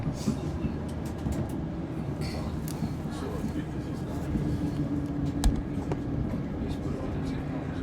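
A Turbostar diesel multiple unit running along the line, each car powered by an inline six-cylinder diesel engine through a Voith hydraulic transmission, gives a steady low rumble and rail noise throughout, with a voice talking over it.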